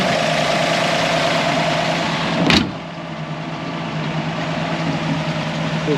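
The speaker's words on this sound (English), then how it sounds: "Running like a little sewing machine, no knocking, no weird sounds of any kind." A 1952 Ford Customline with a 215 inline-six idles smoothly and steadily up close, an even mechanical hum with a brief rising hiss midway before it settles back to a slightly quieter, even idle, with no talk.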